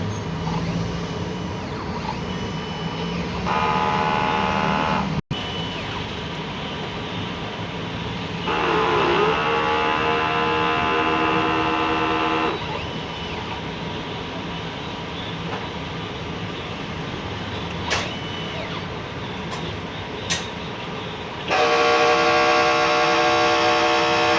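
A 60 cm DTF printer runs its head clean cycle, a steady mechanical hum broken by several bursts of higher whirring as the pump and carriage motors start and stop.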